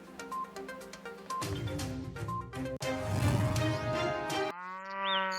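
A buffalo lets out a long, loud bellowing moo that rises and holds, heard close and clear with a few sharp tonal beeps mixed in and no talk.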